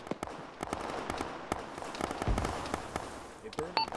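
A grenade blast in the military game Arma lands as one dull, low thump among a rapid scatter of sharp gunfire cracks, with faint voices underneath.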